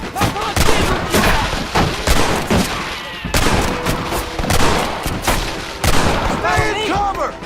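Dense, loud bursts of gunfire fill an Xbox Red Dead Redemption shootout, with rapid overlapping shots and booming reports continuing throughout, mixed with game sound effects and occasional voices.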